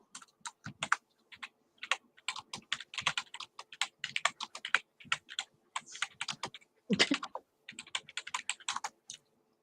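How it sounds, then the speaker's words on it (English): Rapid, uneven clacking of computer keyboard keys in bursts of typing, close and fairly quiet, with short pauses between runs and no talking. "Sorry if y'all hear me clacking on my keys."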